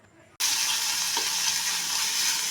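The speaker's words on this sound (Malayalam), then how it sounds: "അതിനുശേഷം ഒന്നുകൂടി ഒന്ന് ഇളക്കി കൊടുക്കാം." Onion and tomato sizzle steadily in a frying pan, a loud, even crackling hiss that starts abruptly after a brief quiet moment and continues with light stirring scrapes.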